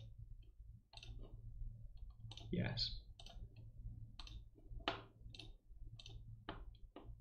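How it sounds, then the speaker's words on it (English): Computer mouse clicks, crisp and loud, sound up close in a steady series of separate taps under a low electrical hum, while a person speaks briefly in between. "my mouse clicks are really loud"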